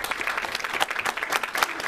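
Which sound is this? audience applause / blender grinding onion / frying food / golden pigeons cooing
audience applause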